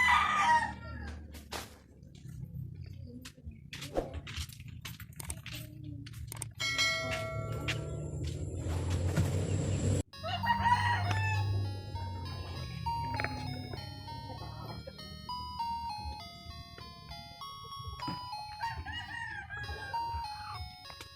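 Chickens and roosters behind a house, with clucking and a rooster crowing over a bright, tinkling bell-like melody, moderately near and fairly faint.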